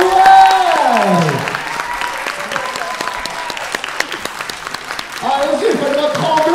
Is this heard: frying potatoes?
no